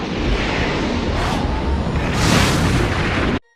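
Cannon fire booms in a sustained, loud roar, with a continuous blast-like rumble and a swelling surge near the end before cutting off abruptly.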